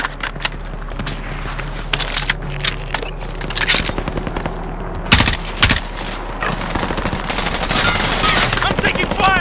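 Bursts of automatic machine gun fire ring out in a Call of Duty Warzone match, rapid rattling volleys with sharp loud peaks near the middle, mixed with a low steady game hum.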